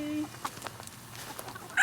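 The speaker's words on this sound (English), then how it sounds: "I think it's because Carter was covering those smaller hens" Hens and a rooster cluck in short, scattered calls at moderate distance, with faint background noise and no talk.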